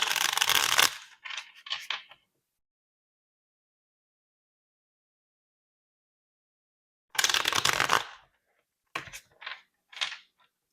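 Tarot cards being shuffled in two close, crisp bursts of riffling and sliding, separated by a long silence, with a few softer card taps after each burst and no voices.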